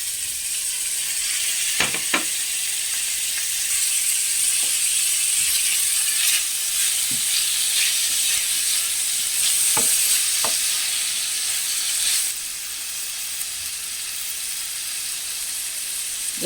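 Vegetables fry in a pot for yellow rice, giving a steady bright sizzling hiss throughout, broken by a few sharp clicks and scrapes of a spoon stirring, with no voices.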